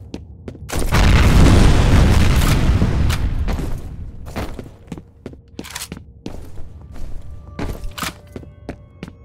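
A grenade blasts in the shooter game F.E.A.R., one loud, close boom that rolls on for a couple of seconds, followed by scattered thuds, clanks and sharp impacts.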